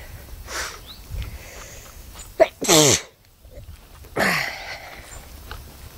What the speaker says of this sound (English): Spring is in the air, and it makes me sneeze.